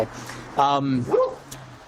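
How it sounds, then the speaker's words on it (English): Dogs bark in short bursts during a phone conversation, with one sharp, loud bark in the middle and a smaller yip after it, all over a low steady hum while a person talks. "I can't hear you with the dogs."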